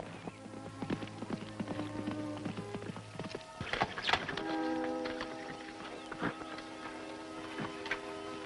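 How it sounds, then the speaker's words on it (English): Hooves of a horse clip-clop in a steady rhythm on hard ground in an old western setting, with a music score playing over them and a sharp accent midway. "Look, there's a riderless horse."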